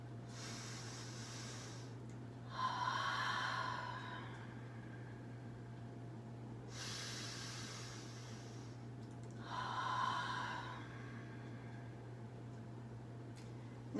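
Two slow breath cycles during a home yoga stretch, each a soft hissing inhale followed by a stronger, slightly louder exhale, heard close and quiet over a steady low hum with no talking.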